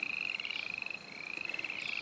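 An Italian tree frog croaks up close in a rapid, pulsing trill that holds a steady pitch, with a brief dip in the middle of the call.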